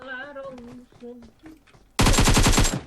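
PUBG Mobile gunfire, a loud burst of rapid automatic shots erupting suddenly after a stretch of talking and lasting under a second, with voices heard beforehand.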